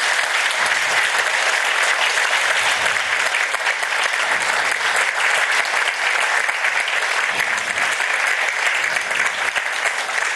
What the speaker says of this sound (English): Can you all give a round of applause